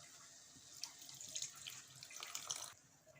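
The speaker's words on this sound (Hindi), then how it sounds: "अब हम इसमें डालेंगे पानी।" Water is poured from a vessel into a pan of mushroom do pyaza curry with onions, a short, soft splashing trickle that swells and falls for a couple of seconds, close and quiet with no talk.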